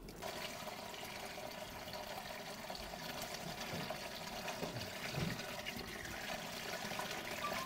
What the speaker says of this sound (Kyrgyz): Анан буга мынтип куюп сүзөбүз.